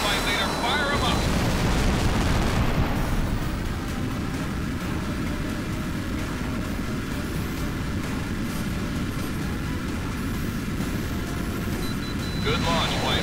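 Missile launch from a fighter jet in the air-combat game Tom Clancy's HAWX: a loud, continuous roaring rush of engine and rocket noise that swells at the start and holds steady, with a radio-style voice briefly over it.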